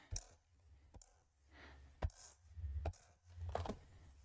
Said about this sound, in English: So what I'm gonna do is get my tape runner out